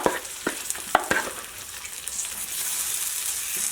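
Pork chops sizzle and fry in a pan, with a steady hiss that swells toward the end, broken by a few sharp clicks and stirring scrapes early on, close up and without talk.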